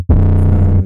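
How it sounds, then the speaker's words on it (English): A Serum 808 preset pushed through crush distortion gives a single loud, gritty bass hit with a booming low fundamental and buzzing harmonics, sustaining for almost a second before a quick cutoff. "when you use crush, it will turn up the volume quite a bit."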